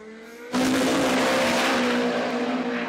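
A KE10 drag car with a 3RZ engine launches at a Brisbane drag racing event, a sudden loud engine roar with tire noise that holds at full power after a quieter idle.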